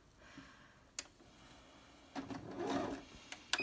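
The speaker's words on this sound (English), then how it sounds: "I am going to start sewing from here because I'm going to leave a gap on this side." A sewing machine stitches fabric for a pencil case, a short quiet run following a few light taps and clicks of handling.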